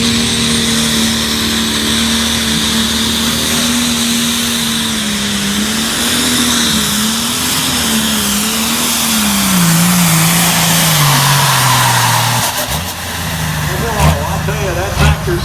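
Massey Ferguson light pro stock tractor pulling a sled at a tractor pull, a loud sustained engine roar with shifting pitch throughout, an announcer talking over it and crowd noise near the end.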